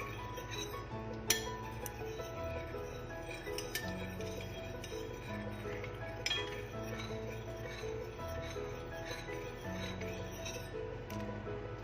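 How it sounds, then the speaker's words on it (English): A spoon clinks repeatedly against a glass while lemon juice is stirred into milk, a steady run of light close ringing taps throughout, with a few brighter strikes standing out. "1 tablespoon of lemon juice, and stir this one."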